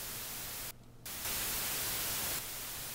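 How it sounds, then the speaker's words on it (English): Noise generator in the Phuturetone synth plug-in putting out steady pink-type hiss, which cuts out briefly, returns, then brightens into a louder, harsher band before settling back, with no voices. "This is just pink noise, I believe."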